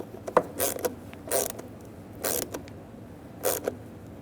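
Screws being tightened into the plastic license plate light lens of a 1994-2001 Dodge Ram 1500: a few short creaking, ratcheting turns come in separate bursts, close and moderately quiet.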